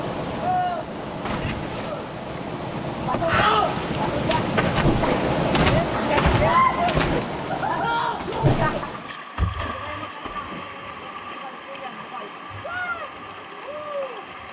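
River water on Babuyan Island rushing in a loud, continuous broadband wash, with people talking over it throughout and a noticeable drop in level partway through as the flow continues more softly.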